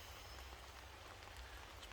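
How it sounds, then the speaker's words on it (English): Steady, faint wash of rain pouring in the woods, pattering on cedar and sycamore foliage overhead, a continuous even hiss with no voices. "you might be able to hear the rain in the background"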